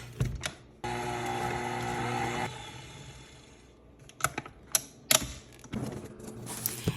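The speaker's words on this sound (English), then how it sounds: "And then I use my ice cream attachment for my Cuisinart" A Cuisinart ice cream maker attachment churns pumpkin pie ice cream with a steady mechanical whir for a couple of seconds, followed by scattered clicks and knocks of parts being handled.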